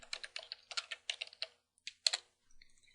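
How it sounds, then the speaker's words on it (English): Someone types a command into a Linux terminal on a computer keyboard: several quick bursts of crisp, close keystrokes with short pauses between them, then one final isolated tap. "let's open a terminal window again. And let's type in run level."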